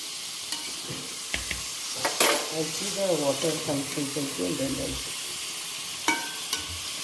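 A spoon stirs boiled jackfruit, mint and spice paste for jackfruit biryani in a frying pan, making repeated scraping strokes over a steady sizzle, with a few sharp clinks near the start and end.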